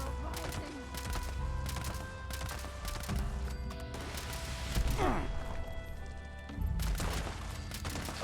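Rapid volleys of gunfire in the video game Fallout 76, repeated sharp shots in quick bursts with heavier impacts and crashes between them, at moderate loudness and without talking.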